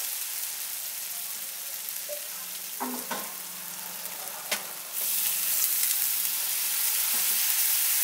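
A Bengali spice paste with turmeric sautés in a pan for bottle gourd and moong dal, a steady sizzle with a few scraping stirs, growing louder and more vigorous near the end as a little water is added.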